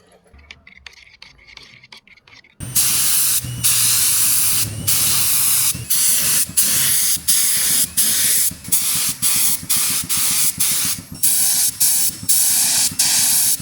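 Spray gun laying down paint on a scuffed car for a cheap paint job, a loud steady hiss in bursts separated by short pauses, following a quieter stretch of handling noises at the start.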